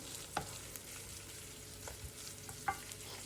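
Quiet, steady sizzling from a pan as red peppers fry, with occasional stirring scrapes, close by and without talk.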